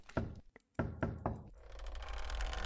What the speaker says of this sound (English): Knock, knock, knock, knock,